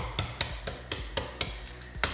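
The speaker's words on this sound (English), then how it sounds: "now we're just gonna tap them on the counter" Hard-boiled eggs tapped against a kitchen counter to crack their shells, producing a series of about eight sharp, separate knocks at an uneven pace, close and fairly loud.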